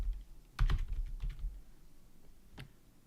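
Typing on a computer keyboard while entering Python code, a faint quick cluster of key clicks followed by a lone keystroke, with no talk.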